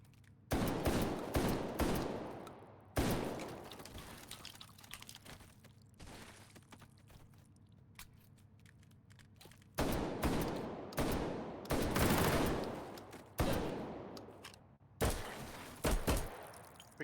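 Gunshots in a competitive shooter match, coming in sharp loud bursts and single cracks separated by quieter gaps, some shots in quick rattling clusters and others isolated, near and punchy.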